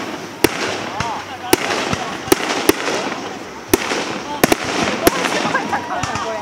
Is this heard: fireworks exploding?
yes